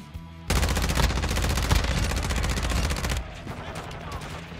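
A turret machine gun in a Call of Duty match on the Shipment map hammers out a sustained, loud rapid-fire burst for about three seconds, then cuts off to lower game noise.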